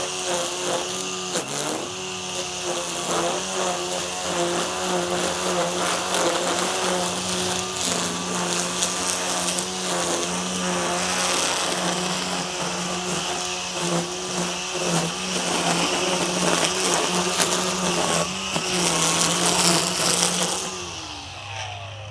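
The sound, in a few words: Ego 56v battery string trimmer cutting along chainlink fence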